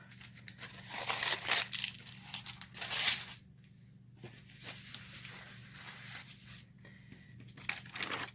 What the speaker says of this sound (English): Then you can crumple it up again and add more